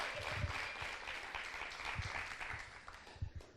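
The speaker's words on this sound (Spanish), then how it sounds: "Un aplauso para ustedes por caminar y marchar para Jesús ese día." Church congregation applauding during a Spanish-language sermon, a moderate wash of clapping throughout with some low thumps underneath.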